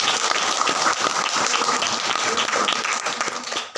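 A congregation at an Easter Sunday church service claps loudly and continuously, a dense wash of many hands sustained throughout and tapering slightly at the very end.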